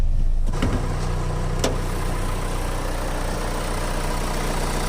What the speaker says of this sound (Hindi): इसका साउंड सुनाता हूँ स्टार्टिंग का क्या है।